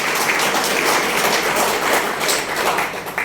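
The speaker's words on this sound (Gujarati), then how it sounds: "જૂના મિત્રો એમના મનમાં એકવાર દિલથી જોરદાર તાળી થઈ જાય" An indoor audience at a speech event claps together, a dense, loud burst of applause that carries on across the whole moment.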